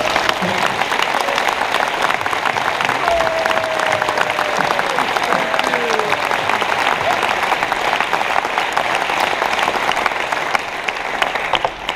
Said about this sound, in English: I would like to have a huge round of applause for all of you, please